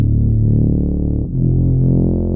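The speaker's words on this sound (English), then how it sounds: "I use French horn from direct wave." A sustained, brassy synthesized French horn tone from DirectWave in FL Studio Mobile, holding steady, loud and full, with a brief dip partway through.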